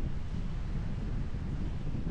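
Strong wind at the Ale megaliths in Sweden buffets the microphone in a steady, roaring rumble throughout, with no voices.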